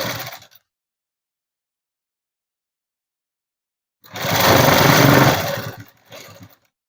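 A sewing machine stitches net cloth in two bursts, a short run at the start and a longer, dense whirring run after a stretch of silence, ending with a brief final burst.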